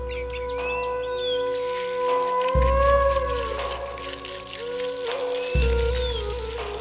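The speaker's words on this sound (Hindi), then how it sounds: "मिर्ची को अच्छी तरह धो ले।" Green chillies are washed in water, with a soft, steady splashing and trickling under sustained tonal hums and a few low thumps.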